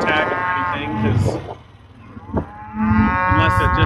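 Cattle on a ranch being sorted for hauling to town, older cows giving several loud, close moos with deep harmonic tones, separated by brief pauses and mixed with other herd noise.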